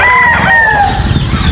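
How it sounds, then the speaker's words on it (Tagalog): Chicks and chickens in a breeder's poultry house give loud, close, high chirping peeps that slide downward in pitch, over a busy background of flock noise, lasting under two seconds. "Okay mga breeder, tignan nyo yung mga sisiw natin."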